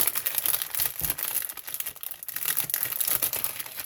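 Plastic vinyl wrapping crumpled by hand while unpacking resin-making supplies. Continuous close, dense crinkling and rustling runs through the whole stretch, with no voices.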